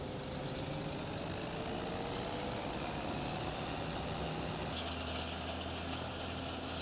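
A tractor idles at the farm field in a steady, continuous low drone, with the lime spreader hitched and no talk over it.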